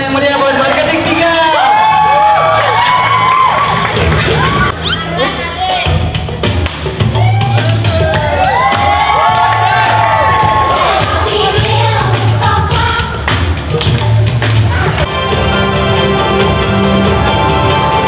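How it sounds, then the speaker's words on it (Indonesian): Loud, continuous crowd cheering and whooping at a festive Ramadan company gathering, with shouts and music-like tones running throughout under a dense hubbub, little distinct clapping audible. "Tepuk tangan yang meriah buat marketing 3"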